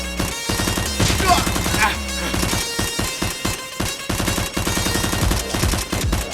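Nerf toy guns fire in a staged shootout between a SWAT officer and criminals, a dense run of rapid, loud clacking shots and pops over steady background music.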